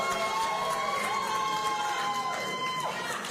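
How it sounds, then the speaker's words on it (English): An audience at a Houston mayoral debate at the University of Houston applauds and cheers in a steady, sustained wash of crowd noise, with a few brief shouts rising above it. "please hold your applause."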